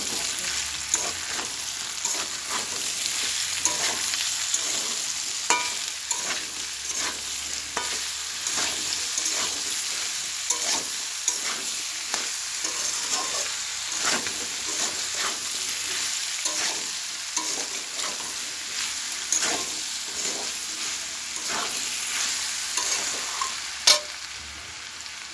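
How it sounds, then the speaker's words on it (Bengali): Chopped tomatoes with salt sautéing in a pan, a steady close sizzle with repeated scraping stir strokes throughout, no voices. "ভালো মতো কষিয়ে নেব।"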